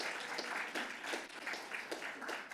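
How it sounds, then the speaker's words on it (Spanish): A church congregation applauds during a sermon, producing a lively, fairly loud burst of many hands clapping together with slight rhythmic surges throughout. "Un aplauso al Señor."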